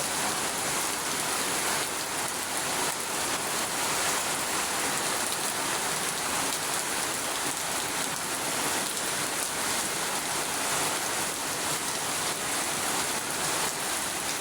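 Heavy tropical rain pours down without letup, a dense, steady roar of drops hitting surfaces that holds at the same loud level from start to end, with no voices.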